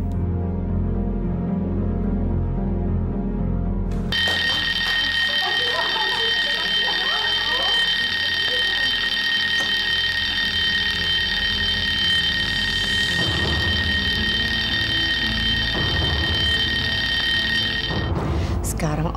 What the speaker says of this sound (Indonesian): Dan pasti saat ini dia sudah memecahkan alarm kebakaran.